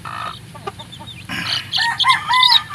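A chick peeps in high, repeated chirps while being handled, the calls growing louder and more insistent in the second half, close to the listener.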